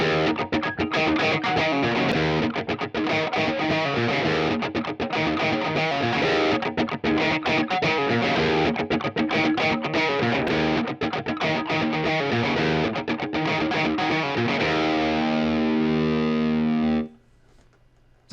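An electric guitar runs through stacked StewMac Ghost Drive Klone-style overdrive pedals, playing dense, driven chords and riffs that stay loud and continuous until a sudden cutoff near the end, with no talking.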